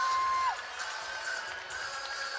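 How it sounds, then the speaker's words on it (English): Sold-out basketball arena crowd of over thirteen thousand roaring and cheering on its feet during a Dayton run, a broad steady wash of distant crowd noise with a whistle-like tone at the start. "And the crowd is on their feet."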